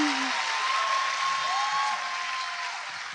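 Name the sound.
live audience clapping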